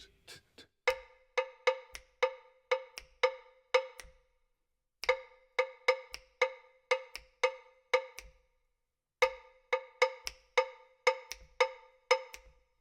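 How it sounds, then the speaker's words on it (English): A bright, metallic bell struck in crisp, syncopated bursts of closely spaced hits, repeating the same Kabila Angola-nation rhythm pattern three times with short pauses between. "That's the pattern for the bell."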